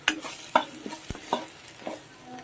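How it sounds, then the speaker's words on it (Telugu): Goat brain fry being stirred in a pan with chili powder and salt: a run of close, uneven spoon scrapes and clinks over a light sizzle, with no talking. "కొద్దిగా కారం వేసి, కొద్దిగా అంతా ఉప్పు వేసి ఇదంతా కలిసేలా కలుపుకోవాలి."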